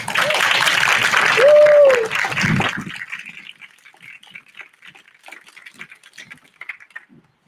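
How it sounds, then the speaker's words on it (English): Audience applause at a school Pride flag raising ceremony, a full round of clapping for about three seconds with a whistle-like tone in it, then dropping to scattered, faint claps and quiet. "please join me in a round of applause as our sign of gratitude and thanks"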